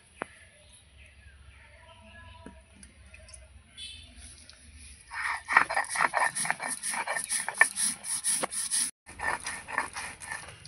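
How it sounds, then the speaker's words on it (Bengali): Poppy seeds ground by hand into a coarse paste for chicken posto: a quiet start, then steady, rhythmic rasping and scraping strokes close up, each pass repeating for several seconds. "এবার আমি পোস্তটা বেটে নেব মাংসের জন্য।"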